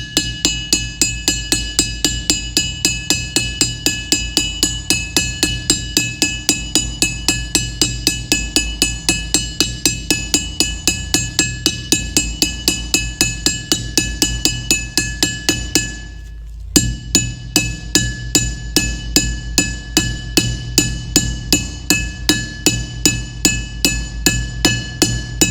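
Bearings being hammered into an axle hub, a long run of sharp, evenly spaced metallic strikes with a bright ringing tone, pausing briefly before the steady blows resume.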